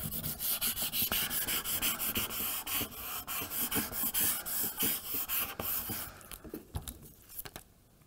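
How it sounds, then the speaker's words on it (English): Scraper tool rubbed firmly over a stencil design on transfer tape, a continuous close scratchy rasp of quick back-and-forth strokes that thins into a few separate scrapes at the end. "I'm going to use my scraper tool just to make sure we've got all of the design done."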